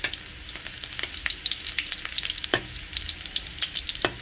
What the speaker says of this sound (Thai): ตั้งน้ำมันทอดแล้วเอาหอมขาวตุ้บลงมาจิ๋วก่อนเจ้า